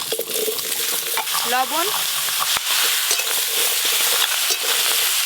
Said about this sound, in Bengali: এবার কোড়াতে কেটে ধুয়ে রাখা চাল কুমড়োগুলো প্রথমেই দিয়ে দেব।